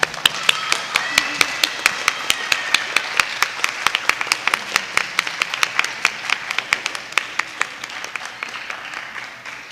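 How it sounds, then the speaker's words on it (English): Graduation ceremony audience at a Christian school applauds for families, with a few loud, close, evenly timed claps standing out sharply over softer, steady clapping from the crowd. "And let us do one final round of applause for all of our families."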